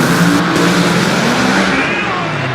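A funny car makes a solo drag racing run at Great Lakes Dragaway, its engine a loud, continuous roar that fades slightly as it speeds away.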